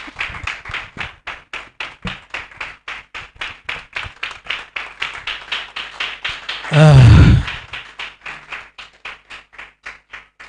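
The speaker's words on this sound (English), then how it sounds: "Please clap now." Audience clapping at a book launch event, sharp rhythmic unison claps in a steady beat, close and clear, briefly interrupted near the middle by a loud low thump or handling noise before the rhythmic clapping resumes.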